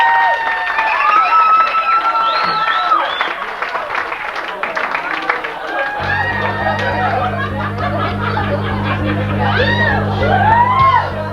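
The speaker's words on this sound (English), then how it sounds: "let's have a big round of applause for Peter Roadkill" Loud crowd applause and cheering at an orchid show, with excited shouts, a steady low rhythmic beat of music joining halfway through and running to the end.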